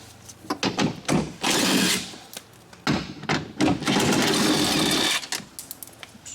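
A ratchet or power tool backs off three 10 mm nuts from a 2007–2011 BMW 328i window regulator, heard as several short whirring bursts separated by brief pauses, close and moderately loud.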